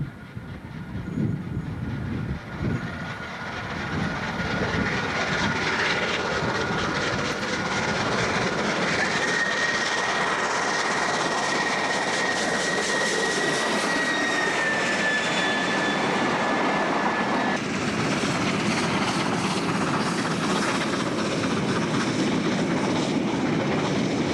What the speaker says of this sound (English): driver Erasmus and 3449 on train 5224 races along near Spookfontein